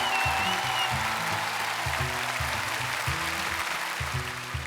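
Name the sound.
audience applause for the artists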